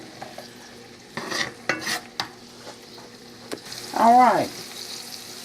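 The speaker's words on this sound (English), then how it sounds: "added another tablespoon of oil. I hope I didn't put too much. We're going to let this cook about 1 minute." Food fries in oil in a frying pan, with soft sizzling and a few stirring scrapes and clinks. A brief spoken word and a short tonal squeak come near the end.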